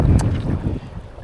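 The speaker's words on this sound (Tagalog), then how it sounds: "Lakas ng hangin, grabe" Strong wind buffets the microphone on a fishing boat, a loud rumbling gust that peaks early and then eases to a steadier low roar over a little more than a second.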